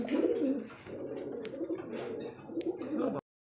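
Satin lahori pigeons coo softly nearby in repeated low rolling calls with light chirps mixed in, stopping abruptly near the end.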